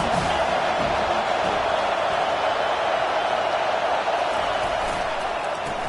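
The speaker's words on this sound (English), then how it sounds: "This crowd trying to make life miserable for this offense." Football stadium crowd roaring at a steady, loud level throughout, a dense continuous wash of many voices with no clear breaks.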